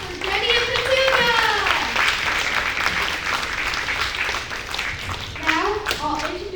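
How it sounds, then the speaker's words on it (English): An audience at a community theater mystery show applauds a pig contest grand champion, with steady clapping mixed with voices calling and cheering over it. "Let's have a round of applause for Jenny and Petunia."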